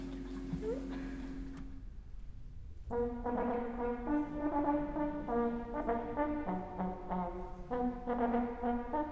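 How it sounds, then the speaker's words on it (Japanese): A model horn, a brass instrument played by buzzing the lips, sounds a short series of clear tones after a brief spoken passage, moderately loud and close in a concert hall. "この仕組みを使うとこの模型のホルンを、"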